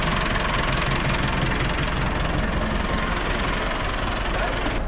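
A tractor engine running on a farm in Pakistan, loud and close. It gives a continuous rough, knocking diesel clatter that fills the whole stretch with no pauses.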